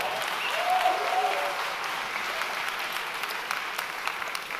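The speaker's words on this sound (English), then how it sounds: "Okay, you can applaud for that." An audience at a cosmology lecture on the universe breaks into steady applause, a dense wash of many hands clapping at fairly even loudness for several seconds.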